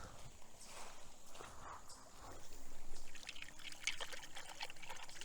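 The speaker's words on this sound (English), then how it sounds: "Let me wash these things off." Water pours and trickles faintly over quartz artifacts being rinsed outdoors, with splashing and handling noises coming and going in a quiet, continuous stream.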